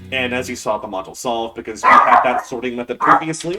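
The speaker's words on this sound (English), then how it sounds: "Please excuse the dog." A dog barks and yips in short bursts close by, heard over continuous indoor talk during a puzzle game session.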